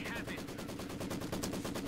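Steady MG34 machine gun fire in a WWII-style video game, a fast continuous rattle of rounds under a commentator's voice.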